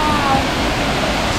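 Villaluz waterfall in Tapijulapa, Tabasco, a 13-metre cascade, heard as a steady broadband rush of falling water close by with no clear breaks.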